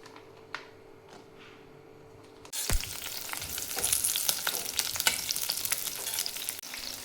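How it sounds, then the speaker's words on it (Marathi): Green chilies roast in hot oil for a spicy tomato-onion thecha, the sizzle jumping up suddenly to a loud, steady crackling fry with bursts of spitting, no talk over it. "तेलामध्ये मिरची भाजून घ्यायची।"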